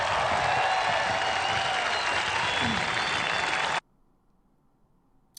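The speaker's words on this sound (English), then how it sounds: "That's the crowd." A political rally crowd applauding and cheering, dense continuous clapping and roaring that cuts off abruptly after a few seconds, leaving near silence.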